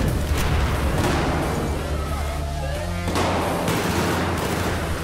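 Dense bursts of Battlefield 4 gunfire on the Siege of Shanghai map crackle and boom continuously, with rapid shots layered over each other and a voice speaking now and then underneath.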